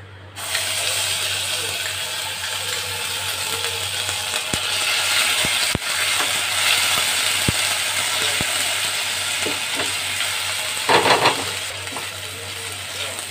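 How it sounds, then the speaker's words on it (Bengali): Ginger paste sizzles steadily in hot oil in a pan, a loud, even hiss broken by scattered clicks and scrapes of stirring, with a brief louder burst near the end. "আমার আদাটা আমি একটু নেড়ে নিয়েছি"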